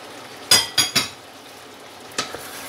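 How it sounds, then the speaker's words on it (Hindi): A utensil stirs potatoes and eggplant frying in a pan for aloo baingan sabzi, giving three quick, sharp metallic clanks close by, then a pause and two lighter knocks over a quiet background, with no talking. "यहाँ मैं आलू भून लिए, तो साथ ही मैं बैंगन भी डालूँगी"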